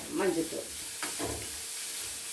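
Onions sizzle and fry in a pan with chilli powder, garam masala and turmeric, with a stirring scrape near the start and a steady hiss throughout; no talking.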